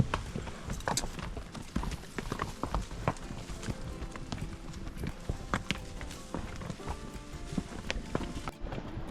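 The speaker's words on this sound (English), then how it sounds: "the little bay roan quarter horse" Hooves of a bay roan quarter horse clip-clopping steadily on hard ground at a walking pace, close and clear, with a few irregular scuffs between steps.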